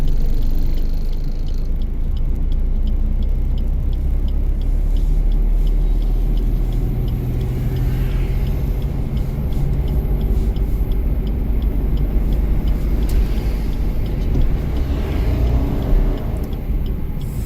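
A car engine runs loud and steady throughout a driving lesson, a continuous low rumble that swells slightly as it is revved, with no talking.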